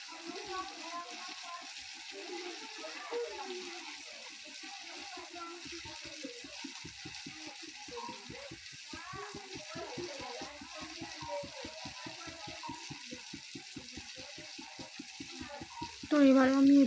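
Spices fry in hot oil for a Bengali oil koi fish curry, a steady crackling sizzle with rapid popping and stirring scrapes throughout, fairly close, ending in a louder burst near the end.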